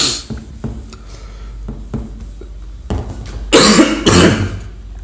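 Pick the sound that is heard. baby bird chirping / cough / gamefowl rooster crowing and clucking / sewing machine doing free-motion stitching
cough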